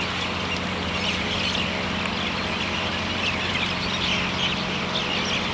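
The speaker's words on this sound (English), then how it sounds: "His pride and joy are these birds." Ducks kept at an army base in Afghanistan, heard as a steady, busy wash of bird calls and possible quacking over a constant low hum, with no talk.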